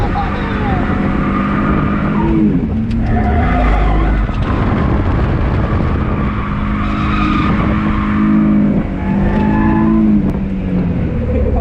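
A BMW E46 drifting makes loud engine revs that rise and fall, mixed with long squealing tyre skids, all close and intense throughout.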